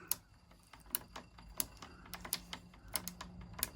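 A Yankee hand drill ratchets and clicks as it self-feeds into material, giving a close, fairly quiet series of about a dozen sharp, irregular clicks over a low background hum.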